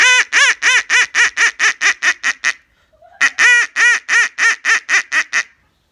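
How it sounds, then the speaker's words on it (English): A female duck's loud, rapid laughing quack in two bursts of about a dozen harsh, evenly spaced quacks each, separated by a short pause, close by. "That's the laughing quack."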